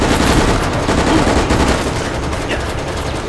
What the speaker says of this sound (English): Where is everyone and why are we being shot?